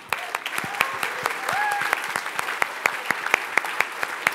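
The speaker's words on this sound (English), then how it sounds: "Can we have a round of applause for the sponsors?" A conference audience at a closing ceremony in Brussels applauds sponsors with steady, moderately loud clapping and sharp individual claps standing out, a faint voice briefly heard over it.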